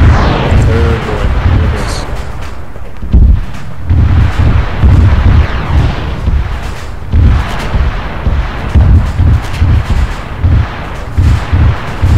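In a military video game set in a cave at Tora Bora, a series of explosive charges goes off in rumbling, booming bursts, with deep blasts and wind-like roar rolling through at an uneven rhythm.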